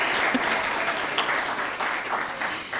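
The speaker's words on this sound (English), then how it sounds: "give a huge round of applause to Alice from Alice's Mountain Market." A crowd at an evening writers' community event gives a hearty round of applause, dense close clapping that stays loud for a few seconds with occasional cheers.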